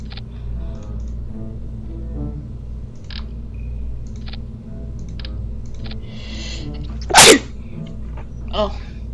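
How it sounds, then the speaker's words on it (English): A single sharp sneeze bursts out near the end, loud and close, after a stretch of quiet keyboard clicks and mouse taps, with a smaller burst shortly after. "I just sneezed"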